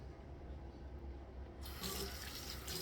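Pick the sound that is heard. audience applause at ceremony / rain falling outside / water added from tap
water added from tap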